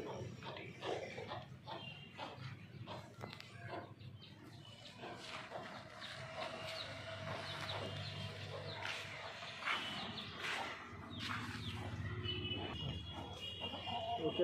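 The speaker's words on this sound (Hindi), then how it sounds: "यहाँ पर भी मुर्गे है, सब सब ब्रीडर्स है, सब सैलम ब्रीड है" Desi Salem breed chickens and roosters on a poultry farm, many hens clucking and squawking at once, moderately close, a busy continuous flock din with no talk.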